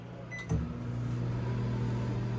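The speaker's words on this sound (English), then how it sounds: "So you do have your Magic Chef, I almost called it a refrigerator. Magic Chef microwave. It's your standard glass spin top microwave" A Magic Chef glass spin-top microwave in a 2024 Palomino Real-Lite HS-2114 truck camper starts up after a click and a short beep, then hums steadily and close until the end.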